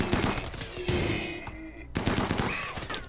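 RimWorld colonists open fire in a close, loud volley: rapid rattling shots in two bursts separated by a brief lull, each ending in ringing tails.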